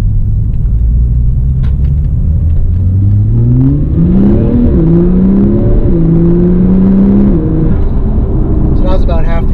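A 2017 Porsche 911 Turbo in Sport Plus accelerating at half throttle with manual shifts, its engine note rising loudly through several gears with audible drops between shifts, heard from inside the car.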